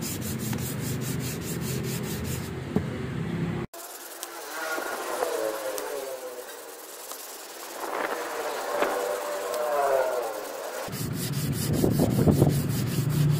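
Sandpaper rubs by hand over primer on a damaged van body panel, a steady close scratchy scraping in repeated strokes that continues without pause, growing a little louder toward the end.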